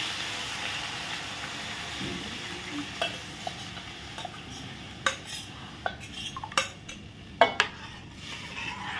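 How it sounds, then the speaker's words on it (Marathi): Spoon stirring flour into a spiced cumin and green chilli mixture in a pan for a fasting ukad, with soft scraping and sizzle under a string of sharp metallic clinks against the pan, no voices. "आणि आता हे चांगलं ढवळायचं आहे कारण त्याच्यात गुठळ्या पण परत होता कामा नये"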